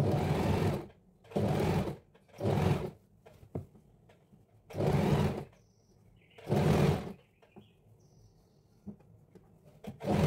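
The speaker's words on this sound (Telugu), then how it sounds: "ఇప్పుడు ఇలా టర్న్ చేసుకొని సేమ్ ఇటు పక్క కూడా మనం స్టిచ్ వేసుకుంటాం." A sewing machine stitching the seam of a girl's crop top, five loud close bursts of rapid whirring stitching separated by pauses with light handling noises of the fabric.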